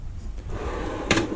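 A drawer on a US General steel tool chest sliding open, a soft rolling rumble ending in a sharp metallic clunk near the end, close and alone.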